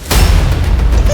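A single gunshot cracks sharply and loudly at the start, followed by a brief rumbling tail.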